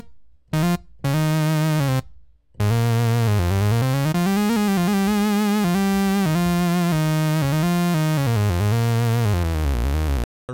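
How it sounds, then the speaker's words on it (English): Super Fat Moog lead preset from the Logic ES1 synthesizer plays a loud, buzzy, harmonically rich melodic line with sliding pitch, alone after a couple of short opening stabs. "The Super Fat Moog."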